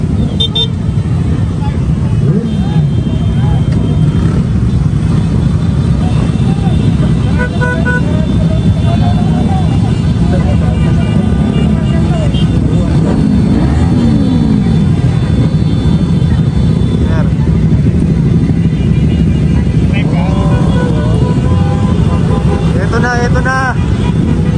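Nearly a thousand motorcycles ride past in a convoy, a loud, steady roar of engines with car horns tooting now and then, while someone talks over the noise.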